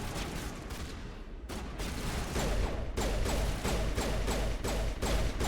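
Rapid pistol fire in the Mass Effect video game, a dense run of sharp shots over continuous loud battle noise, with no pause between bursts.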